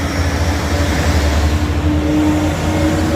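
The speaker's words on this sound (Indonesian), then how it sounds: "Wah, nyalip itu dump truck." A heavy dump truck overtakes on an Indonesian road, its steady loud diesel drone and low rumble filling the stretch without letup and no voices present.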